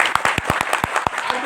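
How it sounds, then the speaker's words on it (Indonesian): Audience applause at a university lecture hall: a burst of sharp, separate claps in quick succession, loud and close, with some crowd murmur underneath. "Baik, pertama saya minta tepuk tangan buat pertanyaan Dominik"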